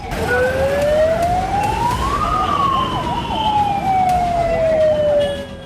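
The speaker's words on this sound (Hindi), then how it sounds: "हूटर्स की आवाज सुनाई दे रही थी।" Loud police sirens wail close by at night, their pitch sweeping slowly up and down, while a second warbling siren overlaps in the background.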